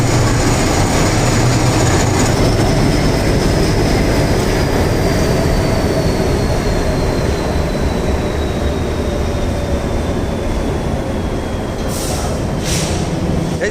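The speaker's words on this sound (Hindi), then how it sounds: "The name of this train is Deccan express." The Deccan Express, an Indian Railways train with a Vistadome coach, runs with a loud, constant rumble and rattle heard from inside the coach, steady throughout and with no voices.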